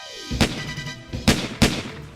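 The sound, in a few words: gunshots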